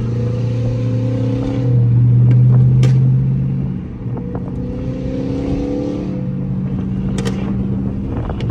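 A flame-tuned Dodge Charger R/T engine drones loudly from inside the car while driving, swelling into a deep rev that falls back to a steady cruising rumble, with a few sharp clicks on top.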